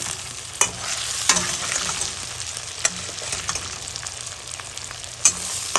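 Spice paste sizzles in hot oil in a pan for a fish-head lentil dish, with a steady frying hiss broken by sharp clicks and scrapes of a spatula stirring, close up and with no voices.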